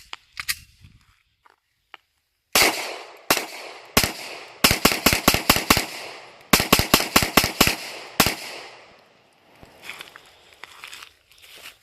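Glock 19 pistol with a 15-round magazine plus one, firing a string of sharp, loud shots close by, some in quick bursts with short pauses, followed by faint handling noise.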